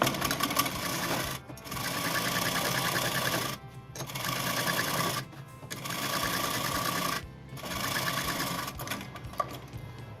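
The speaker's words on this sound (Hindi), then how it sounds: "अब हम इसमें टेम्परेरी स्टिचिंग करेंगे और इसमें गैदर्स डालेंगे" Close and loud, a sewing machine runs temporary gathering stitches on a net frock in several continuous bursts separated by short pauses, with a steady mechanical whir throughout.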